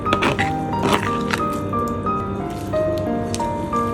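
Small pieces of cut jelly drop into a bowl of homemade strawberry dessert batter, giving soft wet squishes, drips and light thunks, close and irregular with a few clinks of a utensil.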